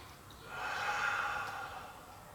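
A single long, soft exhale of breath close to the listener during a slow stretching exercise, rising and fading over a couple of seconds.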